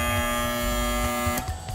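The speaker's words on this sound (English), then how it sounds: "The batch freezer makes the mix colder and thicker to about the consistency of soft serve ice cream." An ice cream batch freezer runs loud and close, a steady electric motor buzz with a strong constant hum that shifts abruptly near the end.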